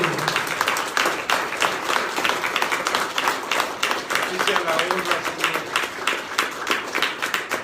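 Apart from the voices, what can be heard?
congregation applause in church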